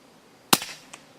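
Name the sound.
EDgun Leshiy air rifle shot at target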